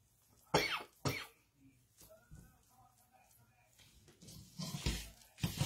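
Two sharp, close coughs come in quick succession, followed by quieter breathy throat sounds and a couple more coughs near the end.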